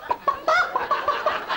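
A man imitates a rooster with a burst of clucking, crowing vocal sounds in quick, uneven bursts, close and fairly loud, with no other talk around it.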